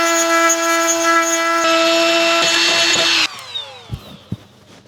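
A power drill boring a hole through plastic trim on a Land Cruiser 250, a loud high whine that shifts pitch as it bites, then winds down and stops, followed by a few handling clunks.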